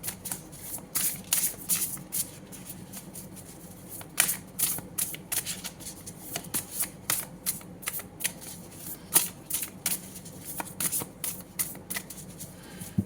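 Tarot cards being shuffled by hand: close, crisp riffling and flicking bursts repeating irregularly over several seconds, with soft pauses between handfuls and a faint background hum.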